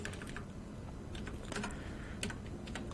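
Rapid clicking of computer keys as a registration number is typed, a quiet irregular patter of keystrokes with small bursts throughout.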